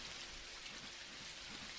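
Rain falls indoors inside a hotel in the driving game Jalopy, a steady soft hiss of dense drops spattering on surfaces, faint and constant with no voices.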